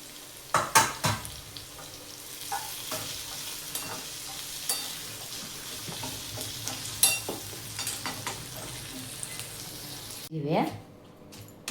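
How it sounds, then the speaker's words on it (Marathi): Okra bharit with fresh coriander pounded by hand in a bowl, giving a few dull, uneven knocks and scrapes close by, with quieter rustling between strikes. "आता कोथिंबीर टाकूया जरा आणि आता चेचून घेऊया"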